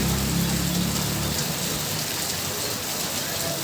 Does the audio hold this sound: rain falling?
yes